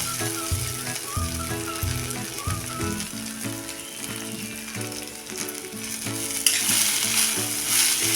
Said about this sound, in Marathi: पोहे चांगले परतून घेऊया